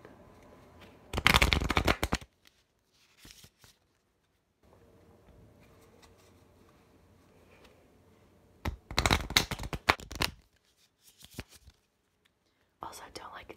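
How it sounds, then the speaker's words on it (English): Uno cards shuffle in two crisp, close bursts of riffling at the start and middle, with a softer brief rustle in between, a final quick flick at the end, and quiet whispering in the gaps. "I'm gonna shuffle"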